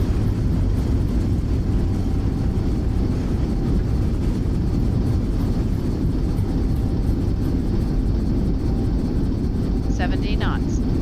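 A simulated airliner touches down in Microsoft Flight Simulator, approaching Seattle from Medford, spoilers up and reverse thrust engaged: a steady, even engine roar and rushing rumble hold at constant loudness throughout, with a faint chime near the end.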